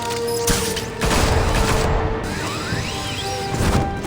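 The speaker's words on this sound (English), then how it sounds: "It's Batman! Shoot him" Gunfire aimed at Batman in the Batman Telltale Series video game comes as a loud, dense volley of shots and crashing impacts, with whooshing bursts over a constant roar and no talk.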